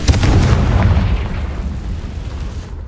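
Confringo explosion spell in the Hogwarts Legacy video game, a single loud booming blast followed by a rumbling decay that fades over about three seconds.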